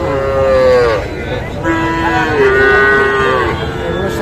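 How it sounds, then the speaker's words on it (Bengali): Young bull calves at a cattle market, several loud close moos with drawn-out, wavering tones following one another, over a dense bed of crowd noise. "ষাঁড় বাচ্চা"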